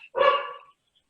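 A single close, sharp dog bark, loud and alone, lasting about half a second and then falling silent.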